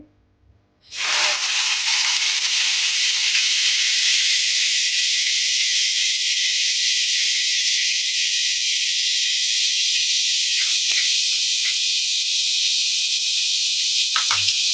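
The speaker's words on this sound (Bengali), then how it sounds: "সেই পেঁয়াজের পেস্টটা তেলে এবার আমি দিয়ে দেবো" Onion paste hitting hot oil, an abrupt loud hiss that starts after a second of quiet and holds steady and close, with a few faint clicks late on.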